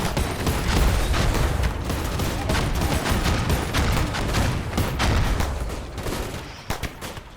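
Dense weapons fire from a RimWorld colony battle, a sustained barrage of rapid overlapping shots and blasts lasting about seven seconds before thinning into a few scattered final pops.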